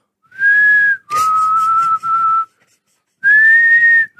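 A person whistles a slow, sustained tune, close and loud, with long held notes separated by brief pauses.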